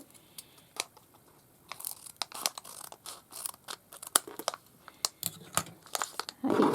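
A package is cut open during an unboxing. Close, irregular crinkling, snipping and tearing noises come in sparse bursts and grow denser and louder toward the end. There is no speech.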